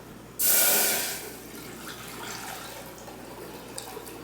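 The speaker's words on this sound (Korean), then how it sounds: "볶아주시고 여기에 이제 물 넣으시면 됩니다" Water pours into a pan of dry-roasted anchovies for broth, a loud splashing rush that starts abruptly and fades after about a second into a quiet bubbling hiss.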